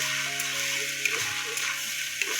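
Spices, including nigella seeds, sizzle and crackle steadily in hot oil in a pan on a gas stove, a soft, even frying hiss with a few faint ticks.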